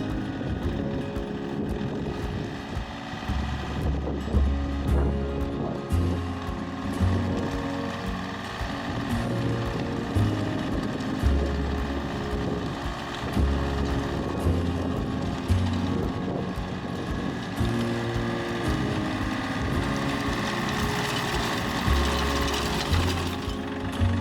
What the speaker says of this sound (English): we hitch up the tiller, head out to the gardens, and churn that compost into the soil